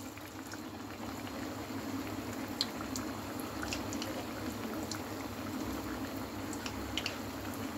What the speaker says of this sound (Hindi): लेकिन मैं डीप फ्राई कर रही हूँ।